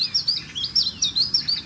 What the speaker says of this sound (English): This is the call of the chiff chaff.